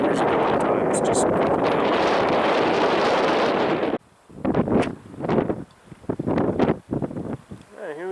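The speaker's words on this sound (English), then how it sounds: "Wind still 15-20 miles an hour and a little gusty." Gusty outdoor wind of 15-20 mph roars loudly across the microphone for about four seconds, then drops away as someone speaks in short phrases with occasional lighter gusts between them.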